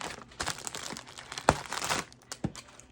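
A plastic bag's opening is sealed with tape, giving close, dry crinkling and crackling of plastic with a few sharp snaps and rips of tape, alone with no voices.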